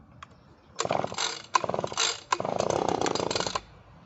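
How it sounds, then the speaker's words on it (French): Starter cord of a new Echo PB2520 leaf blower pulled several times in quick succession, each pull a close rasping, ratcheting whir of about a second with brief gaps between and no engine catching. "On tire le starter."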